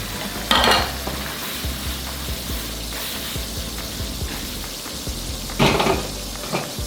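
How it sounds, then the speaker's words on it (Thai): Squid stir-fried in a hot pan with onion, red chili and scallion, with a steady close sizzle and a few louder bursts of stirring and scraping, and no voices. "เติมหอมใหญ่พริกชี้ฟ้าแดงต้นหอมผัดคลุกเคล้าให้เข้ากัน"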